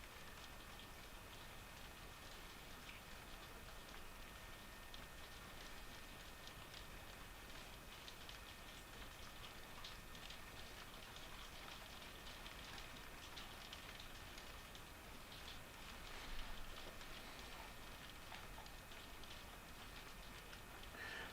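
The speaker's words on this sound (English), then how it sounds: "there's the rain pounding on the window" Steady rain beats against a window, a dense, even hiss of drops that holds at a constant moderate level throughout with no voices.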